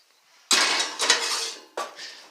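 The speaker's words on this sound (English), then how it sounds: "So I can stick that in the oven right now" Foil-wrapped potatoes set into an oven clatter on metal in three sharp clanks, the first loudest, each followed by a brief ringing decay, close and clear with no talking.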